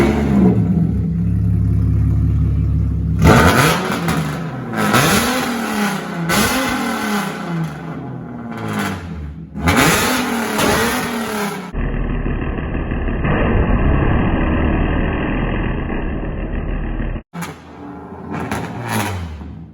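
A Nissan 370Z with a single-exit straight pipe exhaust revs hard in repeated loud, rising and falling bursts close by, then settles into a steady idle drone before a few final sharp revs.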